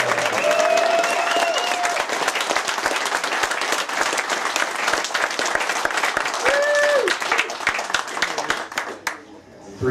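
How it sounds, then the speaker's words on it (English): Applause and cheering from a crowd at a summer bash event, dense clapping throughout with voices calling out over it, tapering off toward the end. "let's give a round of applause for Stan"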